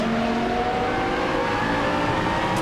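A Lamborghini Super Trofeo race car downshifts into a right-hand corner at Spa-Francorchamps during a race, its engine a constant dense roar with steady harmonic whine, loud and close throughout.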